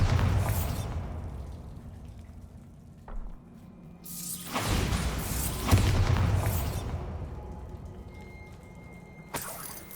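Confringo and Bombarda spell blasts from the video game Hogwarts Legacy, several booming explosions with sharp bursts and rushing whooshes that swell and fade, separated by quieter stretches.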